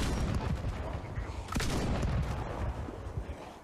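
Gunshots in the survival game Project Zomboid come as dense, muffled booms and rapid bursts with one sharper crack partway through, fairly quiet and continuous.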